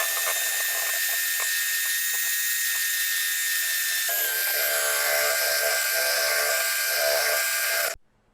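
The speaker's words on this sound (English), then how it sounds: "Now we're ready to use the mixer to prepare the dough." An electric hand mixer whisks keto bread dough with a continuous high-pitched whine, close and loud, shifting pitch partway through as the load changes and cutting off abruptly at the end.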